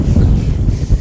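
Wind buffets a microphone outdoors at Knole Park deer park, a loud, low, fluttering rumble of gusts that fills the whole moment with no voices.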